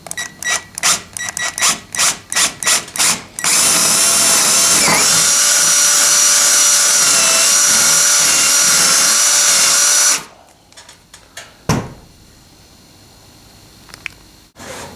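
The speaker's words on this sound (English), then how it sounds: "So now I'm going to drill the 10mm hole for the tortoise machine." A power drill bores a 10mm hole for a Tortoise turnout machine on a model train layout: several short trigger bursts, then a loud, steady whine lasting about seven seconds that cuts off, followed by a few quiet clicks and knocks.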